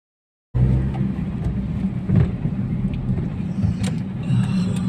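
Car driving through the streets of Stargard, heard from inside the cabin as a low steady engine and road rumble that starts after a moment of silence, with occasional thumps and slight swells in engine tone.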